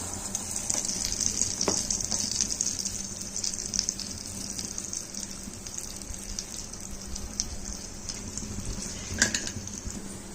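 Burelu, purnam balls, frying in hot oil, giving a faint steady sizzle and bubbling with a few soft clinks, heard alone and quiet.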